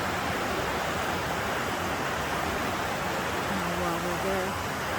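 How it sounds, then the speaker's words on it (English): Rushing river water pours through a rocky canyon below the upper falls at Canyon Falls in Michigan's Upper Peninsula in winter, a steady, loud broadband roar throughout, with a brief faint voice near the end. "You can see it here, water rushing."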